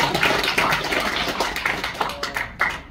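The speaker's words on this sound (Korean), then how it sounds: "박수 한번 쳐야" An audience in a hall at a book launch event claps for about three seconds. The clapping is dense and fairly loud at first, then thins into scattered claps that fade out.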